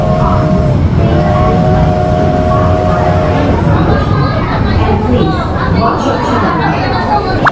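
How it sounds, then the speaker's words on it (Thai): A train rumbles into a Tokyo station at night with screeching brake tones and a loud mechanical hum, while people chatter nearby in the background. "รถไฟเรามาแล้ว"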